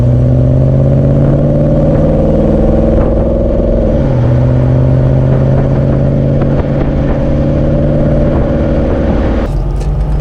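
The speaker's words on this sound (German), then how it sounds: "kraftvollen V8-Sound des ersten schönen Achtzylinders von Daimler-Benz" The 3.5-litre V8 of a 1970 Mercedes 280 SE 3.5 Coupé idles close and loud with a deep, steady thrum, its pitch dipping once partway through, with no voices.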